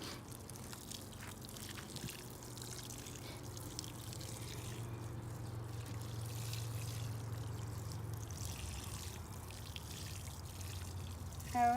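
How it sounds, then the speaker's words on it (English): Water runs from a watering can onto basil and pesto herbs planted in a pot, giving a soft, steady pour with light trickling that continues for several seconds before fading, with a faint clatter at the end. "And now we're gonna water it. Make sure that you water everything. Water it until the water comes out of the bottom."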